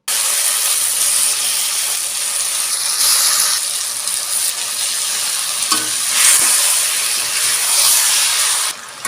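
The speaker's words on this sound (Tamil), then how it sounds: "அதையும் நல்லா கலந்து விட்ட பிறகு சிக்கனை சேர்த்துக்கலாம்" Chicken being stirred into a sizzling tomato and ginger-garlic gravy for Chettinad chicken, with a loud, constant frying hiss and steam throughout and occasional scraping stirs, and no talking.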